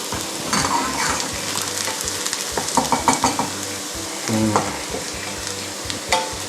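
Garlic frying in a pan over medium heat, a steady close sizzle broken by repeated scrapes and clinks of a utensil stirring against the pan.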